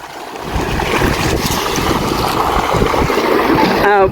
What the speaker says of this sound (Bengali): বাতাস প্রচুর পরিমাণে বাতাস